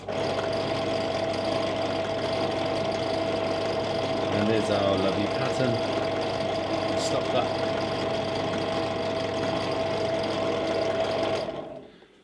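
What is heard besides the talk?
electric motor running under test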